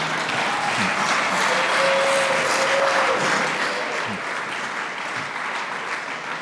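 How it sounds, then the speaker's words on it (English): An awards ceremony audience gives Danny a big round of applause, a thick continuous wash of clapping that swells and then slowly eases, with a brief tone and faint voices underneath. "don't you think we should give Danny another big round of applause?"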